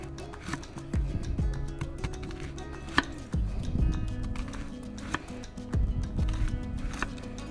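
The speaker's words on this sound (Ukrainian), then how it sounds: "Для цього товстими кільцями нарізаємо цибулю." A knife chops red and white onion into thick rings on a cutting board, a series of soft, evenly spaced thuds and cuts over a faint background with occasional clatter.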